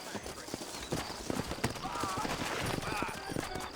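Horses trotting in the Western game Red Dead Redemption, steady clip-clop hoofbeats moving at a moderate pace under ambient outdoor sound, with a voice talking over them.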